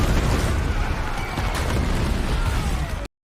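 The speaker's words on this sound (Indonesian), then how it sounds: "Tanpa diduga-duga bom meledak di arena." A bomb goes off in the Hunger Games arena in a film scene: a loud, continuous roaring blast with rumbling debris and whistling sweeps that fills about three seconds, then stops abruptly.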